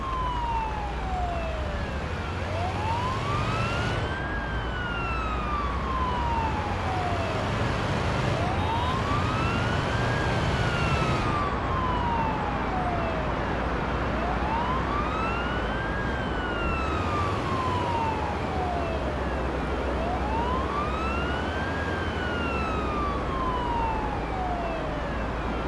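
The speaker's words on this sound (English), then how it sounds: "Use the siren as needed." In the game Ambulance Life, a paramedic ambulance siren wails in repeated slow up-and-down cycles, about five of them, loud and continuous over the rumble of driving, with no talk.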